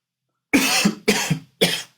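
Three loud, close coughs in quick succession, each a sharp burst with a rough second pulse, separated by short pauses after a moment of silence.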